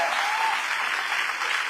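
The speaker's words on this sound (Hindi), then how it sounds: "जोरदार तालियां खुद के लिए होनी चाहिए।" Loud, dense applause from an audience filling the Atal Bihari auditorium at a celebration event, steady and sustained throughout with no pause.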